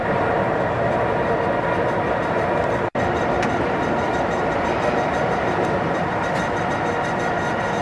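Amtrak's California Zephyr rumbles through the Moffat Tunnel, a loud, continuous roar of wheels and echoing rail noise that fills the whole stretch, with only one brief dropout.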